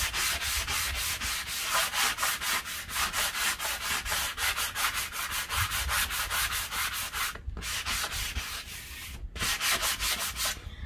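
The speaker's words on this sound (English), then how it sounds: "I'm just gonna sand it over just to remove any roughness" Steady back-and-forth strokes of a sanding block rub on a wooden frame, close and continuous, with two brief pauses near the end.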